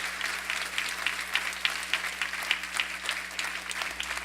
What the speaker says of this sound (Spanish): levanta tu mano y dale un aplauso al Señor